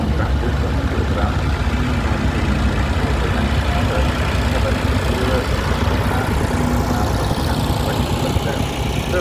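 A vintage Ferguson Brown tractor engine runs at an old-time rally parade of vintage tractors in Aldham, a steady, loud, unbroken mechanical drone with a person talking over it throughout.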